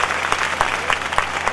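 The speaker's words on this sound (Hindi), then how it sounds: "इसके लिए एक बार सभी बेटियों के लिए और विशेषकर जिलाधिकारी महोदय के लिए ताली।" An audience at a Beti Bachao-Beti Padhao programme applauds the daughters and the district magistrate, a dense, even burst of many hands clapping at close range.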